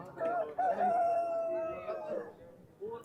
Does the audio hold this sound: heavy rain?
no